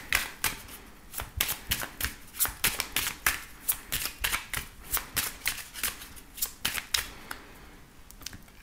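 Tarot and oracle cards are shuffled by hand in quick, rhythmic bursts of crisp riffling and slapping, close up and continuous with no talking.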